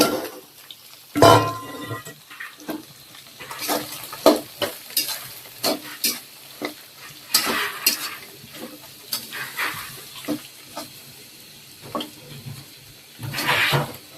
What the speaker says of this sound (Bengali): তো ডিম ভাজার মধ্যে এখন এই যে মরিচ, পেঁয়াজ আর গাজর দিয়ে দিব